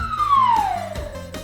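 A falling whistle sound effect for jumping down in the game Unko: one steady tone sliding smoothly downward in pitch for about a second and a half, clear and alone, over a faint low backing.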